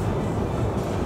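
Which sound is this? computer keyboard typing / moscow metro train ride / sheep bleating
moscow metro train ride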